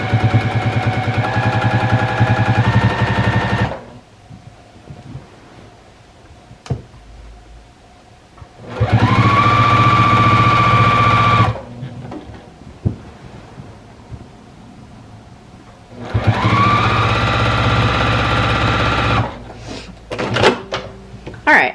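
Sewing machine stitching binding strip onto a quilt edge at about stitch length 3, running in three steady bursts separated by pauses, fairly loud and close.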